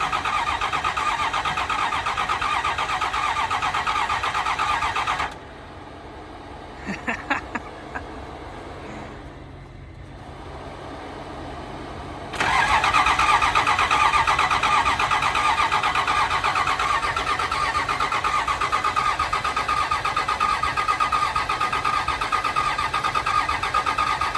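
A Cummins diesel swapped into a Chevy Squarebody, its engine badly damaged, chugs loudly and roughly up close. It drops to a quieter stretch with a few clunks, then roars back into a steady, heavy run.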